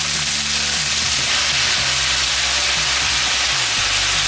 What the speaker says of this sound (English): put your whole can of green beans in and just fry that up for a few minutes